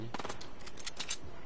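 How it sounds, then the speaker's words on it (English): Bursts of rapid automatic gunfire in Fortnite, a quick string of sharp cracks at moderate distance, fairly quiet, with a faint voice at the start. "he's shooting at me"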